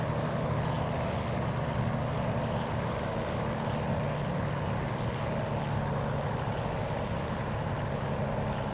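An iniBuilds P-40F Warhawk propeller engine in a flight simulator drones steadily during a power-on stall, a loud, even, low rumble that holds throughout without talk.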